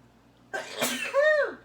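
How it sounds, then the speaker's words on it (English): A single sharp sneeze bursts out close to the microphone, followed by a short voiced exhale trailing off in a quiet room. "I gotta sneeze again"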